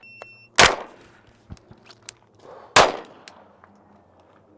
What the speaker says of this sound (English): transition to my concealed carry and shoot another round